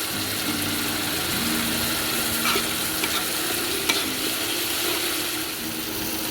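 Cumin powder and turmeric sautéing in a pan, a steady close sizzle of frying spices with scraping stir strokes and occasional sharp clinks of a utensil against the pan.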